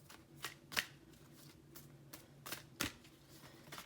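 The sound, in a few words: shuffling a deck of oracle cards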